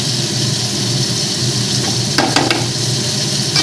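Fish frying in a little oil in a home kitchen, a steady close sizzle throughout with a few sharp spatters and scrapes near the end, no talking.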